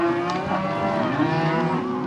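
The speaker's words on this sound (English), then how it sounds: "they'll open that gate and start letting the cows through" Cattle on a fourteen-mile cattle drive out of the Black Hills, a long, loud, sustained moo close by against a low background rumble.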